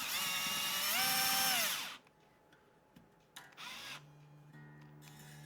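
A guitar string winder spins a tuning peg on a worn 90s Fender-style electric guitar, giving a loud steady whirring buzz with rising pitch for about two seconds, then quieter clicks and a short low creak.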